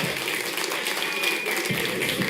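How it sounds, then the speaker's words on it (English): A crowd at a live Clash Royale tournament in Helsinki applauds steadily throughout, a dense wash of clapping filling the short clip with no clear break. "Round of applause for our next quarterfinalists."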